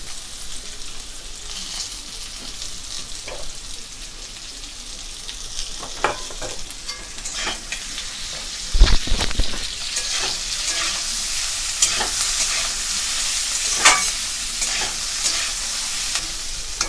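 Potatoes and chopped onion, seasoned with salt and turmeric for an egg-and-potato bhujia, fry in a pan with a steady close sizzle. Scattered scrapes and clacks of stirring sound throughout, with one sharp knock midway.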